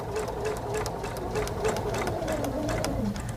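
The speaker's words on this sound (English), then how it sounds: "You don't have to sew super, super fast." Sewing machine stitching a paper pieced star quilt block, a steady continuous mechanical whir with rapid needle clatter that runs unbroken from start to finish, close and moderately loud.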